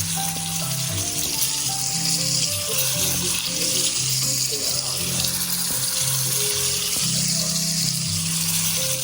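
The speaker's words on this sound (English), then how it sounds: "I fry the meat on high in duck fat" Meat frying in duck fat in a hot pan, with a steady loud sizzle and crackle running throughout and no talk.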